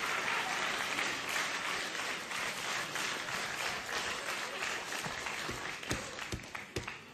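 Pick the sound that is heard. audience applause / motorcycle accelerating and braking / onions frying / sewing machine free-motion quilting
audience applause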